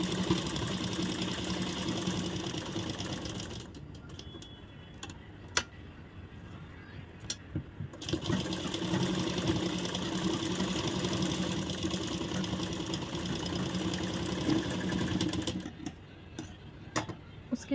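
A sewing machine stitches a blouse in steady, rapid ticking bursts. The runs pause and restart, with quiet handling noises in the gaps between them.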